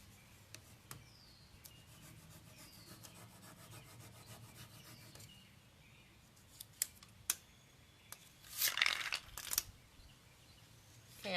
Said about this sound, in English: You just have to rub over and over again.